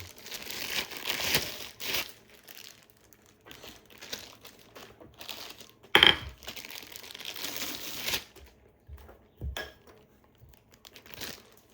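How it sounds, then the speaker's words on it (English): Plastic packaging crinkles and rustles loudly close by as pull-up bar parts are unpacked. Crumpling comes in bursts, with a sharp knock or clatter near the middle and scattered handling noises between. "take everything out of the container or the luxury packaging"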